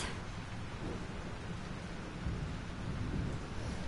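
A thunderstorm in the video game Life is Strange: continuous heavy rain hiss layered over deep, rolling thunder rumble that swells slightly toward the end, with no voices present.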